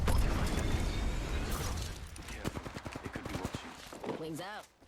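Rampage light machine gun in Apex Legends fires steady, slower-paced shots after a loud opening blast, with game voice lines briefly heard toward the end.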